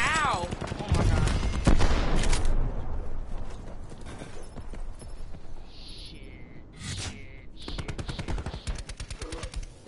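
Rapid video game gunfire, sustained bursts of automatic fire mixed with single loud shots, dense and close at the start, easing in the middle and returning in fast volleys near the end.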